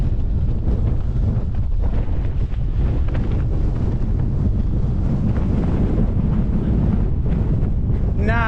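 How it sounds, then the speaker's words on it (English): Strong storm wind roars steadily against a small tent and buffets the microphone, loud and continuous, with a brief whistle near the end. "Here's the wind."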